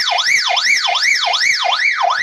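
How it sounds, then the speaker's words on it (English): Emergency alarm siren from a Retevis RT5 handheld VHF-UHF radio, a loud continuous wailing tone sweeping up and down in steady, rapid cycles, close and alone. "if you want to activate the alarm, you press the upper button for like 3 seconds, and it goes on. It's pretty loud"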